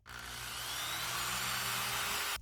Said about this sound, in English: I'm going to drill a hole in here for him to sit in.